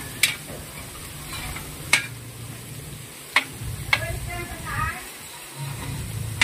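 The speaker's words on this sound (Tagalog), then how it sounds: "nagsimula na si Badiday sa pagluluto ng pansit guys" Pansit noodles cooking in a pan over a wood fire, a steady sizzle with periodic sharp clinks of a utensil against the pan, a soft voice murmuring underneath.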